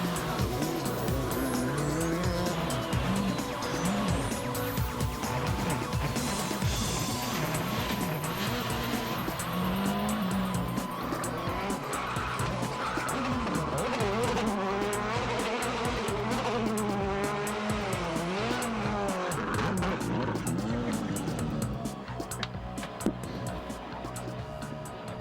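Rally car at the Monte Carlo WRC shakedown spinning on the road, engine roaring and tires squealing continuously with wavering pitch under a dense, loud mix of car noise.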